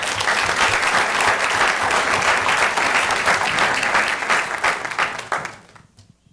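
Audience at a North Augusta city council meeting gives a steady round of applause, dense clapping that holds for several seconds and then quickly fades out.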